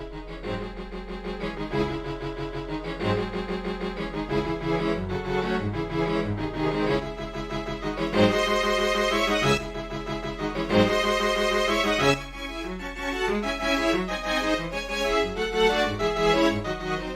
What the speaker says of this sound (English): This is what the orchestra sounds like.